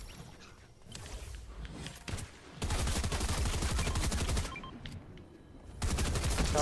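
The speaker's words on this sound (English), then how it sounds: "Who are they shooting at, Kelsey?" Rapid automatic gunfire in a battle royale shooter, with dense bursts of shots roaring in and out over several seconds, close and loud, with brief lulls between volleys.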